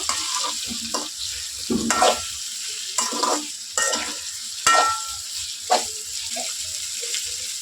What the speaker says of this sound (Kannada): ಈ ಜರ ಎಣ್ಣೆಗ ಚಂದ ಫ್ರೈ ಆಗಬೇಕು